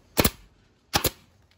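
Arrow air stapler firing a double shot: two sharp pneumatic bangs, each a quick doubled crack, close and loud with a short pause between them.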